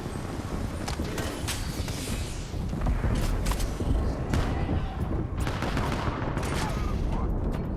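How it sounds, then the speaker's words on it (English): Apex Legends gunfire in a steady, dense barrage of rapid shots and bursts, loud and close and continuing with little pause, with a voice talking now and then. "I'm taking shots."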